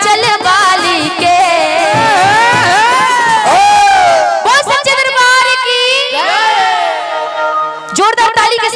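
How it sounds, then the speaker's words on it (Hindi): A crowd at a devotional bhakti stage show in Gorakhpur cheers and whoops, with loud, continuous overlapping shouts and rising cries close to the listener. "जोरदार ताली के साथ"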